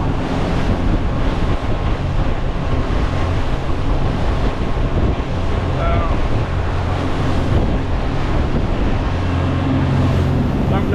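On a rough passage from Cardiff to Swansea, big waves crash and slosh against a boat for a steady stretch, with heavy wind buffeting the microphone and a roaring, churning wash throughout.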